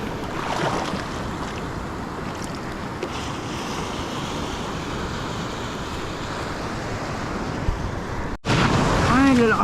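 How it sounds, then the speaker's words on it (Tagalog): Strong surf breaking along a Philippine shoreline during shore casting, a loud continuous wash with wind buffeting the microphone throughout. "Lalakas ng alon dito"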